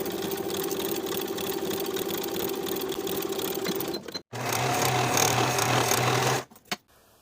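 A sewing machine stitches the shoulder seams of a pintuck poet blouse, running in a steady close whir that changes pitch after a brief stop and then halts in short bursts near the end.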